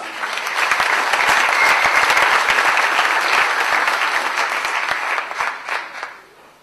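An audience at a French community institute event, a Bible lesson gathering, breaks into sustained applause that holds steady for several seconds, then thins out and fades with a few scattered claps at the end.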